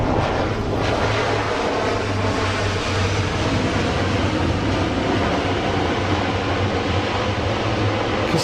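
An Airbus A400 military turboprop transport aircraft passes overhead as a loud, steady engine roar with a low droning hum, filling the whole stretch without a break.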